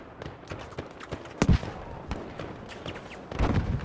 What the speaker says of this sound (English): Shots from left here from somewhere.